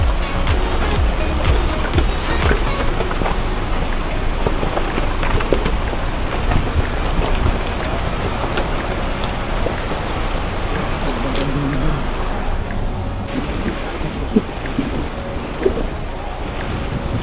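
A car fording a fast-flowing but shallow river near Aguilar, Pangasinan, with constant rushing water and heavy wind buffeting the microphone, plus scattered sharp knocks and clicks.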